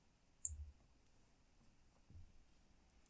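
A single faint click of a button, then a second tiny tick near the end, over near silence in a quiet room.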